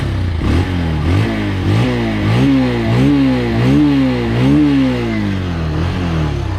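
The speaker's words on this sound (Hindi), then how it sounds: "एग्जॉस्ट नोट सुनिए बाइक का" A Bajaj Pulsar 180 BS4 motorcycle engine revs repeatedly, its exhaust note rising and falling in a series of loud, close throttle blips.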